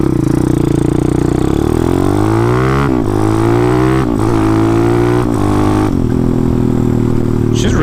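Motorcycle engine held at full throttle, a loud close roar rising in pitch through several gear changes with brief dips between shifts, running steady and unbroken with no talk.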